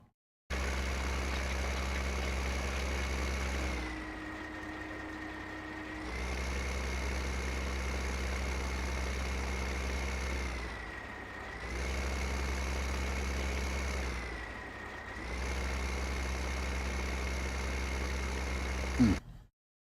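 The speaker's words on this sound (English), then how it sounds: "Is it a little loud on the tractor sound?" Tractor engine idling in the Farming Simulator 15 PC game, a steady droning hum with a constant tonal whine that dips briefly now and then, running continuously for about twenty seconds with no talking.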